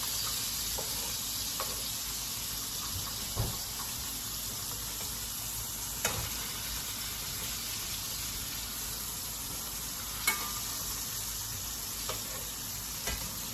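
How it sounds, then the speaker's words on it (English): Salmon searing in a pan after being flipped, a constant hissing sizzle with occasional faint clicks and taps over the steady crackle. "Got a pretty sear on it. Flip it to the other side."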